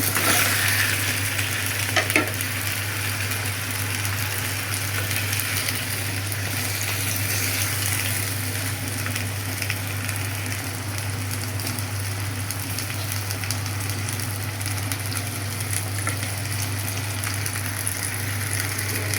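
Vegetables (flat beans, potato, tomato) sizzle steadily in a pan of frying spice masala for a rohu fish curry, a dense continuous crackle with occasional stirring scrapes, close and even throughout with no talking.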